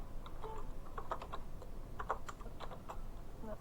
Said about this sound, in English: I'm going to go ahead and type that in here.